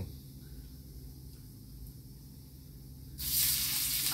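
Cumin seeds hit hot oil for tempering ghugni, a low steady background giving way to a sudden loud, bright sizzle near the end that holds strong and alone.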